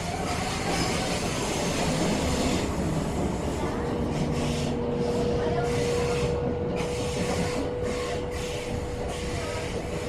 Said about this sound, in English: Train just departing, going in the opposite direction, of course.